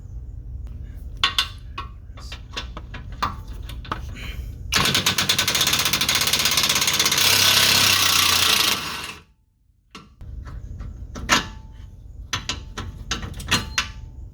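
A power tool spins off an 18 mm bolt from the subframe of a 2010-2014 Ford Taurus, a loud, close, continuous buzzing whir of about four seconds, surrounded by scattered metallic clicks and handling noises.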